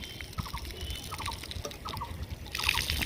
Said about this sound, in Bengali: দেখেছো কীরকম টেকনিকে জল দিচ্ছে ছাদ থেকে ঢেলে দিচ্ছে